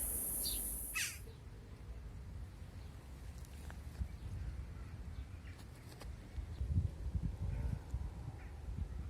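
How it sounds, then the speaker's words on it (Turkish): Crows caw several times in the distance over soft outdoor ambience, with a brief high hiss at the start and scattered rustling. "E, kargalar geldiler. Duyuyorsunuz değil mi seslerini?"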